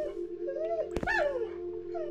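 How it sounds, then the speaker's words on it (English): A dog howls in the Morrowind horror mod video game. The drawn-out, wavering cry rises and falls and is broken by one sharp click midway, with quieter howling tones lingering toward the end. "That's like the same sound effect as the dog from Resident Evil 4."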